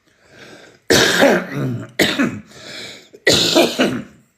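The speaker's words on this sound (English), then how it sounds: "I'm still coughing a little bit from the weekend." Three loud, harsh coughs in quick succession from a nearby person, each a sharp burst with short pauses between.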